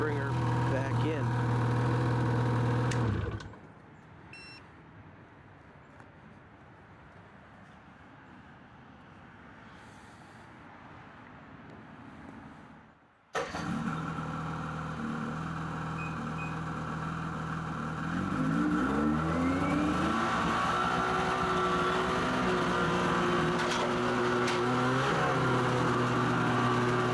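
A 2016 Ski-Doo MXZ Blizzard 600 snowmobile engine runs close and loud, falls to a low distant rumble for about ten seconds, then surges back to a strong idle with a rising rev toward the end.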